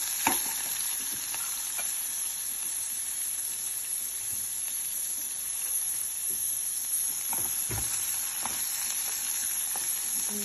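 Green chillies, onions and garlic sizzle and fry steadily in a pan, a constant crackling hiss with occasional stirring clicks and no voices.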